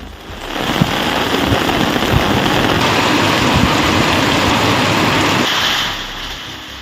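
Heavy thunderstorm rain in Tamil Nadu with rainwater surging along a road, a loud dense roar of water and splashing that swells in, holds steady for several seconds and eases off near the end.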